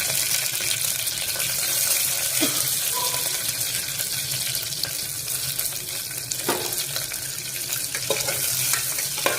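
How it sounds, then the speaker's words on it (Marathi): Green chillies go into onions and curry leaves frying in hot oil, producing a loud, continuous sizzle with a few sharper crackles and spatters throughout and no talking. "कांदा बघा, आणि आता त्याच्यात मिरच्या पण टाकते।"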